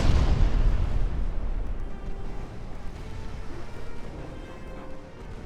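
A warship's main guns fire in Ultimate Admiral: Dreadnoughts: a heavy, booming blast opens loud and then fades into a long, rumbling decay.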